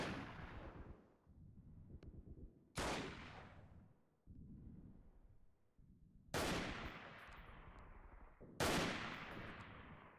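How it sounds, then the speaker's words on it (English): Gunfire striking the player in the war game Freeman: Guerrilla Warfare, with loud bursts of shots arriving in several waves and each burst trailing off into rattling fire. "Okay, now I'm getting shot."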